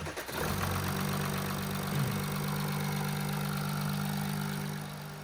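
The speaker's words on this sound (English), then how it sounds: "we did start up the car up, and as you can at least tell that the engine sounds good." Audi A8 engine starting and then idling smoothly, a steady low hum with a faint mechanical tick, heard close and fairly quiet without any voices.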